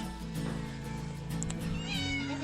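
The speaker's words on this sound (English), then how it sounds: "Lots of kitties making noise" Several cats meow and yowl over a steady hum, their cries overlapping and rising near the end.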